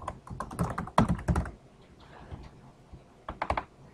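Keys clatter on a computer keyboard as a folder name is typed on a Windows 7 PC, a quick run of close, crisp clicks, a pause, then a short second burst.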